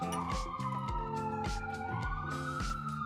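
An ambulance siren wails, sweeping up and down continuously, fairly near, mixed with rhythmic rumbling music or engine pulses underneath.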